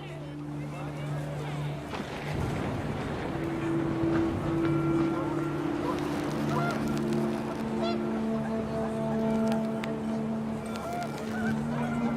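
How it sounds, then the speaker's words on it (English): Panicked geese honk repeatedly in What Remains of Edith Finch, their overlapping calls and sustained tones rising over wind-like ambience for the whole stretch, fairly loud and continuous. "panicked geese appeared and quickly went"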